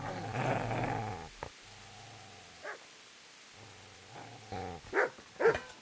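A dog in Kingdom Come Deliverance barks and growls in short, loud bursts separated by quiet gaps, ending in a quick cluster of yaps.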